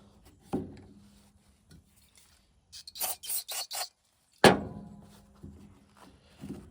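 Old gasket residue is scraped off a part from a '71 Ford F-100 in a short burst of rasping strokes, with a few knocks and one sharp clunk nearby in a quiet space.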